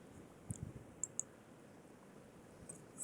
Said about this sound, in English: Hang on a second, I'm typing.